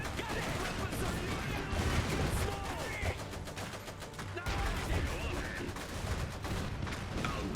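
Mortar fire and battlefield explosions from the Iron Harvest strategy game, a continuous loud barrage of booms, crackling gunfire and debris with no letup.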